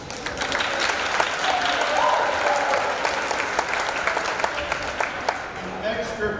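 An audience claps at an NJROTC annual military inspection ceremony, a dense, sustained round of applause that gradually thins toward the end, with some voices mixed in.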